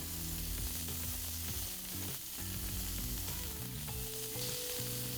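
Scallops sear in a hot pan over a high flame, a loud, dense, continuous sizzle heard close up and without pauses, with no one talking.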